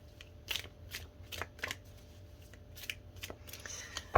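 Tarot cards are shuffled close up in quiet surroundings, a series of soft papery riffles and slaps in uneven bursts.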